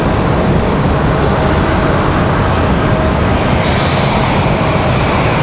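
An American Airlines jet taxis forward at Raleigh-Durham International Airport, a loud, constant engine roar close to the microphone that holds steady throughout with no talk.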